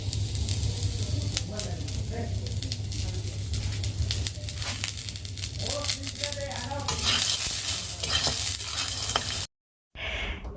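Salted corn kernels frying in oil sizzle and crackle with stirring scrapes under a voice, then cut briefly to silence before the end.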